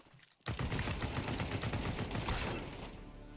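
Sustained rapid automatic gunfire in Counter-Strike 2 begins abruptly after a short quiet moment, a loud, dense burst of shots that continues for about three seconds before easing slightly, with no talk.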